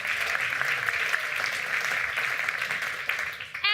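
A crowd at an awards ceremony applauds steadily, a continuous wash of dense clapping lasting throughout, with a brief squeak of feedback or a voice cutting in at the very end.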